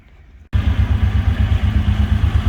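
A farm tractor engine starts up and runs loudly and close by, a steady, rhythmic low throb with rattling, on a farm preparing for snow.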